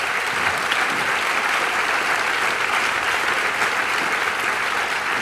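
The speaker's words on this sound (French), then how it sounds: "Je vous invite à l'applaudir." Audience at the opening of the 50th La Rochelle film festival applauding warmly, a dense, steady clapping that fills the room without pause.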